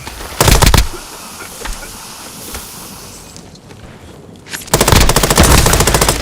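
Automatic rifle fire in the video game Warzone, with a Kilo 141 and Kar98k in a final circle: a loud, rapid burst opens the clip, then a quieter stretch of ambient wind and a couple of single shots, then another long, loud sustained burst.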